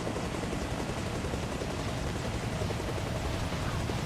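A helicopter in Arma Reforger comes in to land, its rotor and turbine making a steady, loud, broadband roar that stays even throughout with no talk.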